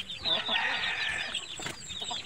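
Rhode Island Black Astor chickens clucking up close, a loud run of rising and falling clucks and squawks in one short burst, with no talk.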